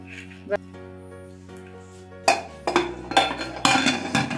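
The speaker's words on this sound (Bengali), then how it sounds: "এবার আমি কেকের পাত্রটা এর মধ্যে আস্তে করে বসিয়ে দিচ্ছি" A metal cake pan of semolina and jaggery batter is lowered into a covered pot, giving a soft early clink and then a run of louder metallic knocks and scrapes as it settles.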